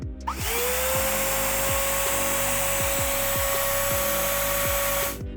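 Makita 18V cordless vacuum cleaner, the weaker model, switching on and spinning up quickly to a steady high whine with an even motor hum, running loud and continuous before cutting off at the end.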